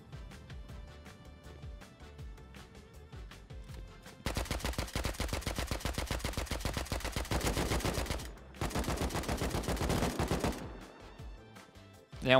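Silenced gunfire in the survival video game Rust, two long rapid bursts of muffled automatic shots with a brief gap between them, preceded and followed by quieter in-game ambience.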